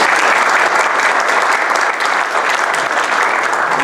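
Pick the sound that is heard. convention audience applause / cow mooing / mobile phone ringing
convention audience applause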